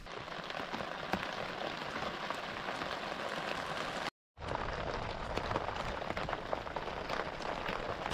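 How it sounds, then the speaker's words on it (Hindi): Steady heavy rain patters on a tent at night, a dense continuous hiss of drops close by with a brief silent gap midway, then the downpour resumes. "बाहर बारिश हो रही है"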